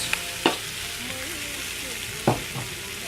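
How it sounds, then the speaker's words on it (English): Potatoes fry in a pan for a potato curry, a steady hiss of sizzling oil with two distinct clanks of a utensil against the pan and faint squeaking tones in between, with no talking. "I'm going to go ahead and add the potatoes."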